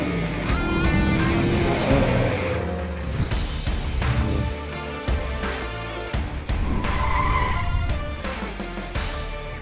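A Spec Miata race car driven hard around a track, its engine loud and continuous with tires squealing and skidding through corners and sharp shifts in pitch as it brakes and accelerates.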